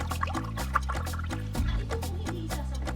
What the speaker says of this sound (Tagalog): at saka lalagyan ng tubig